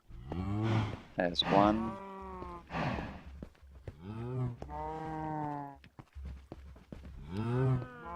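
Cows mooing in the Minecraft Bedrock video game on a compact survival cow farm, several long, drawn-out moos repeating one after another, close and fairly loud, with a brief spoken voice in between.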